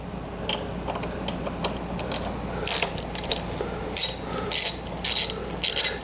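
Ratchet clicking as bolts under the rear shocks of a Ducati V2 motorcycle are loosened, with several short bursts of rapid clicks spaced across a workshop background, close and clear, no talking.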